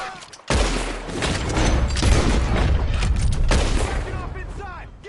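Gunfire in Red Dead Redemption 2 during a shootout near a barn, a loud opening blast followed by a sustained barrage of overlapping shots and booms, with voices mixed in beneath the noise.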